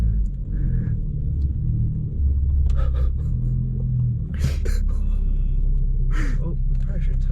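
A BMW 135i rolls off under its own power, a low engine rumble and idle close by, with people talking over it and a few short clicks and knocks.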